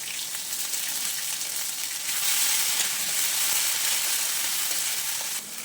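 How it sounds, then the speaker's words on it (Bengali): Bay leaf and onion paste sizzle steadily in hot oil while being stirred, a dense continuous frying hiss that swells slightly midway, with no voices. "ওই তেলেই তেজপাতা এবং তারপরে পেঁয়াজ বাটা ভালো করে নেড়ে চেড়ে নিতে হবে"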